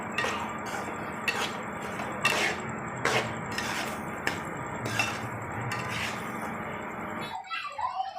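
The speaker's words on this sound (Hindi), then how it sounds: "1 कप ये चीनी है, ये डाल दें इसके अंदर, मिक्स कर लें इसको।" A spoon stirs sugar into semolina (suji) halwa in a pan, giving repeated scraping and clinking strokes at an uneven rhythm, close by, before the sound drops away near the end.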